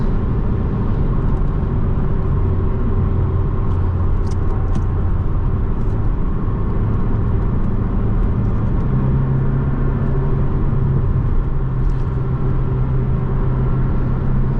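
A 2018 Porsche 718 Boxster roadster engine drones steadily while driving, a loud continuous low rumble with a constant pitch and no talking over it.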